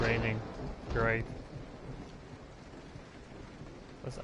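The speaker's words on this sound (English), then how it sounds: "Let's add some thunder to the already noisy house." Steady rain and a low thunder rumble from a PS4 game set inside a house, with a person briefly talking over the storm at the start.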